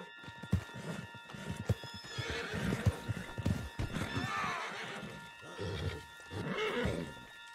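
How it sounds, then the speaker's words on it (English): A horse in Red Dead Redemption 2 whinnies repeatedly while its hooves clip-clop at a gallop, fairly quiet game audio with several drawn-out neighs over the rhythmic hoofbeats. "Get him on the horse and let's go."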